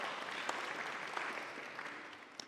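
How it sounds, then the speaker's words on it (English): Steady applause from a concert audience at a large ensemble performance, dense clapping throughout with a few sharper claps standing out, no voices over it. "we can clap for them as well"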